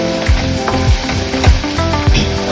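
Onions fry in a kadhai for a restaurant-style kadhai paneer, giving a loud, close sizzle. Regular sweeping stirs of the spatula sound roughly every half second against the pan.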